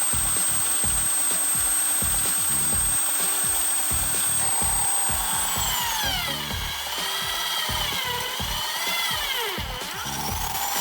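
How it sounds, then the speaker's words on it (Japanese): An electric drill at its slowest speed grinds and rubs against material with steady rough scraping, loud and close, with a rising whine toward the end; no talking. "ドリルの回転速度は一番遅いやつにしてます。"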